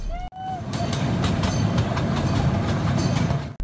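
A miniature train ride rolls through a city park, its wheels giving a steady close rumble with faint rhythmic clicks, continuous for a few seconds.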